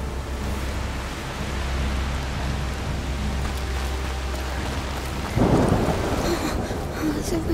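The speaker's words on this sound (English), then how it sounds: "Oh, the rain is getting worse. It's just a storm." Heavy rain and a thunderstorm in the video game A Plague Tale Requiem roar as a dense, continuous wash with a low rumble, growing louder and harsher partway through.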